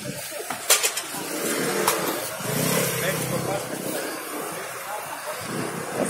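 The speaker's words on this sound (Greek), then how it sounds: "Να δούμε και την κίνηση εδώ." Street traffic in Heraklion, with cars and motorcycles passing at a steady roar and a few sharp clicks early on, fairly close.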